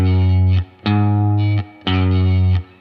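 Electric guitar with chorus and effects plays a Lydian progression in E: three sustained chords separated by short gaps, each struck cleanly and ringing loud and close.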